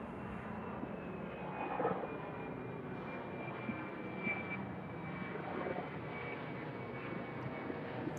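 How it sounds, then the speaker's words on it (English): A Cargo Jet Boeing 767 engine runs at an airport at night, a steady distant roar and whine holding evenly throughout with no talk. "that Cargo Jet 767 engine started, ready to taxi down to runway 27"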